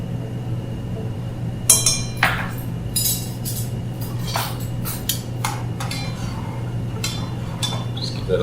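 A metal spoon stirs curry powder, turmeric and salt in a pot, giving a series of sharp, close clinks and scrapes at irregular intervals over a steady low kitchen hum.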